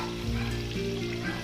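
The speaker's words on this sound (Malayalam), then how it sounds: "അടുത്ത സെറ്റ് നമ്മൾ വറുക്കാനിട്ടിട്ടുണ്ട്." Malabar pathiri, a flatbread also called poricha or enna pathiri, fries in hot oil with a steady, close, dense sizzle and crackle. A few stirring movements come through, with no talking.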